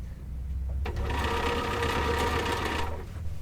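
A sewing machine stitches a ruffled pillowcase seam at a 1/4 inch allowance and 2.5 stitch length, running as a steady close mechanical whir for about two seconds after a brief start, then stopping.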